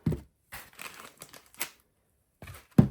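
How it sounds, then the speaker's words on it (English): Close, crisp crinkling of a plastic bag in several short bursts separated by brief silences, ending with a sharper rustle, while unboxing an HP EliteBook 6930p laptop. "And now the plastic bag out of the way."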